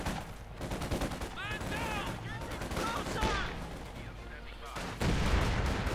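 A field gun booms in Company of Heroes 2 amid a busy wartime battle, with repeated gunfire cracks and blasts mixed with game ambience and a commentator talking over the action.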